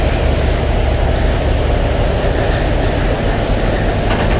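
The engine of the Maharaj 7, a passenger launch ferry on the Shoula–Muladi route, drones heavily and steadily at close range with a dense low rumble and no pauses; no talking.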